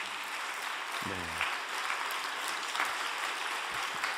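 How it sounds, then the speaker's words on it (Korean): Applause from a congregation at a religious retreat prayer meeting, a steady, moderately distant clapping that continues throughout, with a brief voice near the start. "큰 박수가 있었네요"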